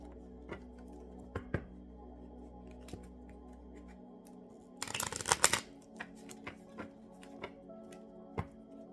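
A deck of oracle cards gets a brisk riffle-shuffle, a dense papery flutter lasting under a second in the middle, surrounded by scattered soft card taps and handling clicks in a quiet room.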